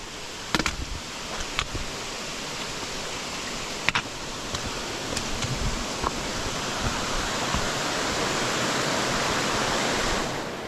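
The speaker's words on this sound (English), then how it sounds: "There's another big waterfall." A big waterfall on a mountain hiking trail roars as a steady, broadband rush of falling water, constant and fairly close, with a few faint knocks and footsteps on top.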